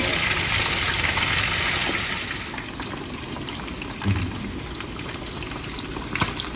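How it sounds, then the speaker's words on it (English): Rice and water in a covered pot for coconut rice bubble and hiss, a busy, sizzling boil that is louder at first, then settles into a softer simmer with a few faint clinks. "Cover our rice for it to boil"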